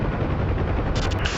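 Shelling at a forward arming and refueling point in a combat flight video game: dense, continuous rumbling bursts of gunfire and explosions, loud and broadband, with no gaps and no voices.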